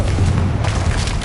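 A Confringo fire spell explodes in Hogwarts Legacy, a dense, loud rumbling boom with heavy low-end weight that rolls continuously for a moment without any voices.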